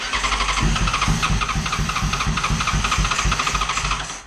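A Yamaha FZ1 motorcycle engine, revived after being abandoned, runs loudly nearby, chugging in a rapid, steady pulse with a hissing edge over the throbbing beat.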